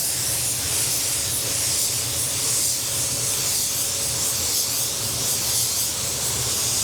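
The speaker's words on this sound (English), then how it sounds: "I'm gonna blend the quarter, starting with almost an orientation coat" A spray gun applying paint over a car quarter panel during a blend, giving a loud, steady, unbroken hiss with no voices.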